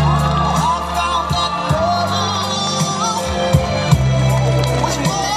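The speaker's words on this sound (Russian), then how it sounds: "И еще раз ваши овации" A crowd cheers and whoops loudly and continuously at an outdoor Maslenitsa festival concert in Bendery, with shouts rising over sustained music and applause.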